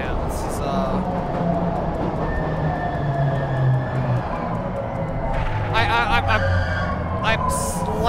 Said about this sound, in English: We're just kinda in the subway now.